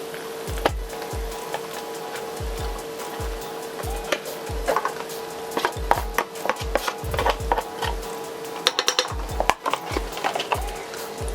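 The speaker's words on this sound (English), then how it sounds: "And use my spoon to just mix without no heat." A spoon stirs rice together with shrimp paste in a bowl off the heat, giving repeated soft scraping and clinking strokes in a steady rhythm, close up, with a faint background hum and no talk.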